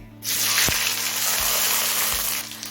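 Chopped onions, one large and one medium, hit hot oil after a bay leaf for rice khichuri, bursting into a loud, steady close sizzle with a few soft thumps underneath.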